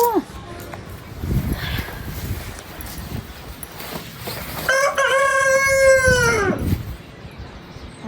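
A large rooster crows loudly and close by, one long drawn-out call with a rising start and a sustained, wavering finish, after a stretch of barnyard noise.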